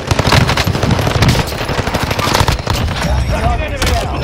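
A Stoner 63 machine gun fires in Call of Duty Warzone, with loud, sustained automatic bursts running almost throughout and players talking over the shooting.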